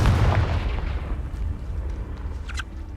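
Confringo spell blast in the game Hogwarts Legacy: a heavy, booming explosion with a deep rumbling low end that rolls on and slowly decays, with a faint crackle near the end.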